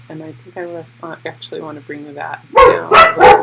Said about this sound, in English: They have to bark at everything that goes by.